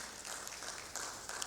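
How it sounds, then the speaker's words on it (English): Audience applause greets a panel member taking a seat at a digital lending conference panel, a steady, dense patter of clapping that stays fairly even throughout the short burst. "A big round of applause to Paritosh."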